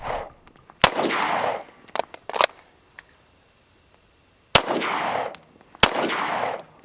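Pistol shots from an XD Mod 3 and an Echelon fired back to back, four loud sharp reports in two pairs with echoing tails, separated by a quiet pause and a few faint mechanical clicks.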